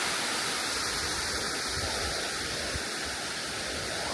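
Water pours steadily down an overflow into a sluice-like river channel, a constant full rushing roar close by with no break, and no voices over it.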